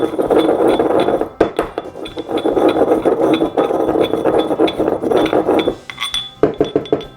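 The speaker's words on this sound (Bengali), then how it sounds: "এখন এই সবগুলোকে খুব ভালো মতো পিষতে হবে" Spices being crushed with black salt in a mortar, sharp repeated clinks and grinding knocks at close range, rhythmic and loud, with a short pause near the end before a few more strikes.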